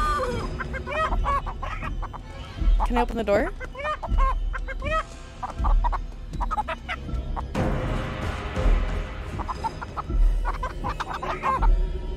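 Baby chickens in the video game Chicken Feet cluck and peep in quick, repeated high chirps, fairly close and steady throughout, mixed with a person talking and a brief burst of noisier sound partway through.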